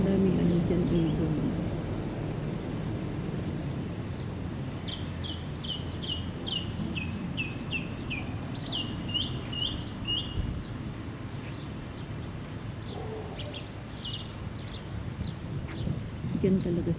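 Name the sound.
birds calling in a park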